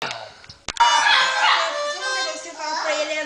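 A dog lets out a sharp yelp, then a drawn-out, high, wavering howl close by.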